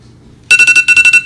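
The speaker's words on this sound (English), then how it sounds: "There's the timer for the cake." Kitchen timer for a cake going off after a moment of quiet, a loud shrill electronic beeping in two quick bursts of rapid pulses, close by.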